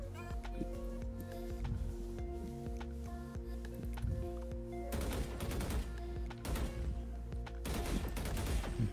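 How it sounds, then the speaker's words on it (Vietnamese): Gunfire in a shooting video game, rapid clustered shots over a steady hum of game sound, growing denser in the second half. "bắn hai con giữa cho anh coi thử"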